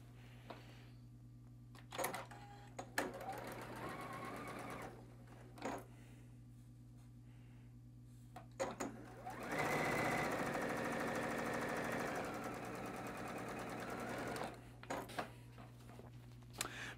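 A sewing machine stitching quilt fabric pieces with right sides together, its motor whirring in short runs and one longer steady burst, close by over a constant low hum.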